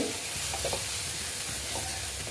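Kashmiri red chili powder is stirred into hot oil in a frying pan, giving a continuous soft sizzle with a few light scraping stirs, quiet and close, with no voices.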